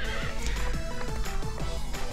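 A horse in the Miitopia video game whinnies loudly over galloping clip-clop hoofbeats, with a synthesized game music bed running throughout.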